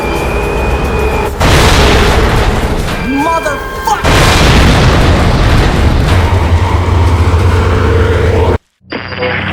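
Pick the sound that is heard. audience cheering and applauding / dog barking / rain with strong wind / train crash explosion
train crash explosion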